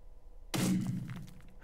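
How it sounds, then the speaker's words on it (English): A small explosion in Minecraft hits with a sudden loud thud that rings out and slowly fades into a lingering rumble, with no talking over it. "It's such a cute little explosion."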